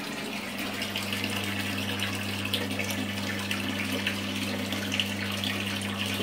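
A bathtub fills for a bath with a continuous, even gush of running water from the tap, accompanied by a low steady hum, with no talking.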